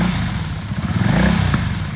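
Used 2004 Kawasaki Vulcan 750 V-twin cruiser motorcycle running steadily, a loud close low rumbling throb with a lumpy pulsing beat and slight rises in revs.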